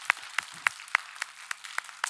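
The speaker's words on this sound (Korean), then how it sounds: "펀드레이징에 동참해 준 분들에게 격려의 박수 한번 할까요?" Small church congregation clapping in encouragement for fundraising volunteers, a sparse, fairly close run of about eight distinct handclaps with no voices.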